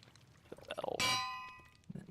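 A bell struck in the Minecraft video game gives one bright metallic clang at about the one-second mark, ringing out and slowly decaying, preceded by faint clicks and small game noises, with no voices.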